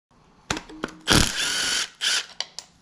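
Ratchet wrench clicking as it backs out loose valley cover bolts on a junkyard LS engine teardown, with several short bursts of ratcheting and a longer steady run, close and fairly loud.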